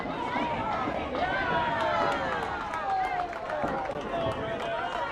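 Bowlers cheering at a mixed national bowling tournament, with over 100 players in the hall: overlapping shouts and whoops rise from all sides over a steady crowd din, broken by scattered sharp knocks and claps.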